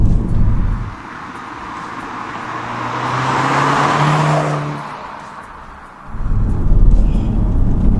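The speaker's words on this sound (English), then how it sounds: "Listening to those turbo spools" Audi S3 on a country road, its turbocharged engine building and spooling under acceleration as the note rises and swells, then backs off before loud road and engine noise returns, with no talk.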